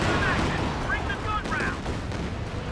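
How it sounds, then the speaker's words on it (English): Rocket artillery barrages in the World War II strategy game Company of Heroes 2 on a 4v4 battlefield, a dense roar of booms and crackling blasts overlapping continuously, with a voice talking faintly underneath. "it's just a non-stop rocket artillery spam"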